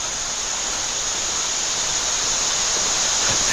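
Water rushes through a small side creek that is usually nearly dry, a loud, steady broadband wash with no break or voices.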